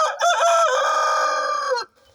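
A Wyandotte rooster crows once, loud and close, a drawn-out call of about two seconds that cuts off sharply.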